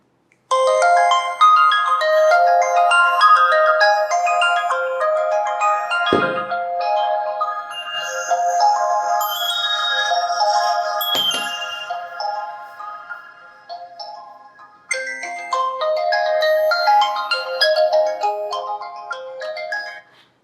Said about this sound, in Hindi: आपका फ़ोन जब रिंग करेगा ना तो कुछ इस लाउडनेस से यहाँ पे उसके स्पीकर साउंड करेंगे